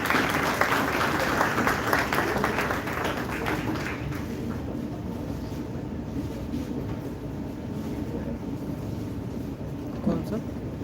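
Applause from an audience at a medical institute's international event in Varanasi, dense clapping for the first few seconds that thins out and fades into room murmur and background noise.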